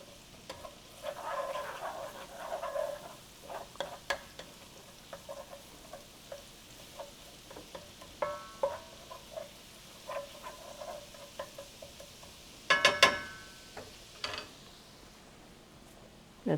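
A garlic shrimp pasta sauce with butter simmers in a pan, a soft steady bubbling and sizzle broken by scattered small pops and a brief louder clatter near the end, close but quiet, with no talking.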